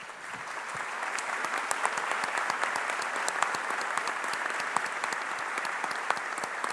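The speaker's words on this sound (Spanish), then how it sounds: "para ellos yo quiero un voto de aplauso" An audience at the launch of a monuments collection gives a round of applause for the research team, a dense, even patter of many hands clapping continuously and fairly loudly, with no speech over it.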